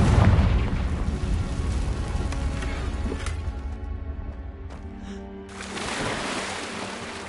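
A Confringo fire spell bursts in Hogwarts Legacy, a loud rumbling boom with a sustained roar and crackle that swells, dips, then flares up again.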